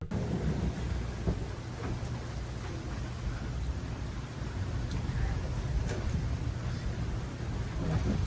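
A steady wash of heavy rain with low rumbling thunder rolling underneath, loud and continuous from start to finish.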